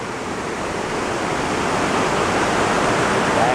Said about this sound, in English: we're seeing a beautiful waterfall here in the Emerald Isle